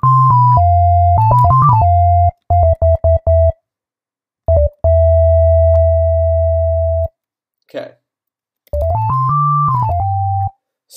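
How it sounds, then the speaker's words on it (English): Two pure synthesized sine waves in Reason 7, a low one and a higher one, held and switched on and off in choppy bursts with changing pitch while building a bass sound. "all we've got is two sine waves"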